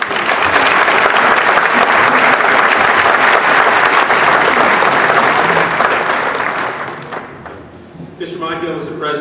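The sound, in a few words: audience applause at an awards ceremony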